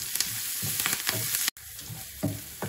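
Crushed garlic and a few curry leaves sizzle and crackle steadily in hot oil for tomato garlic chutney, with a close continuous frying hiss and intermittent stirring scrapes.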